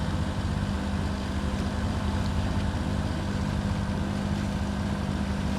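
A sailboat's engine runs at reduced throttle during a single-handed winter sail on the Strait of Juan de Fuca. It makes a steady, low, droning hum that holds constant and close throughout.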